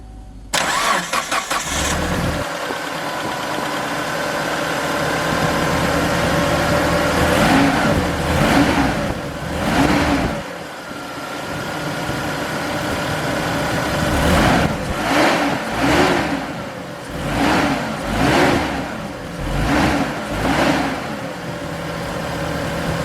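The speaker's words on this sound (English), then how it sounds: "Now then after you're going to start the car." A Mitsubishi car engine, just fitted with a new ignition coil wire, cranks and fires up, settles into a steady idle, then revs repeatedly in several rising-and-falling bursts, loud and close, with no talking.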